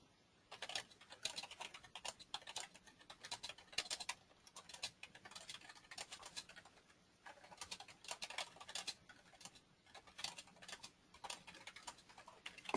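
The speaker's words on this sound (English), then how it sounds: "Sorry for the typing" Rapid clicking keystrokes on a computer keyboard come in quick irregular bursts with short pauses, faint and close-miked, no talking.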